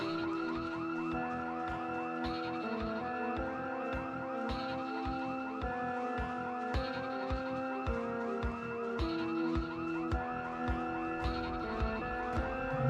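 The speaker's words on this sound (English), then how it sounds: "I'm never gonna get used to these drive-by alarm triggerings" Project Zomboid (Build 42) car alarm set off while driving past, a loud, continuous wailing siren pattern that cycles steadily for the full stretch without any voices.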